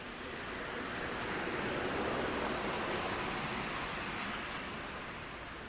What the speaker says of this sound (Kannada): ಇದು ಸದ್ಯ ದಕ್ಷಿಣ ಕನ್ನಡ ಜಿಲ್ಲೆಯಲ್ಲಿ ಸುರಿತಾ ಇರುವ ಮಳೆಯ ಚಿತ್ರಣವನ್ನು ನಾವು ನಿಮಗೆ ತೋರಿಸಿರುವಂಥದ್ದು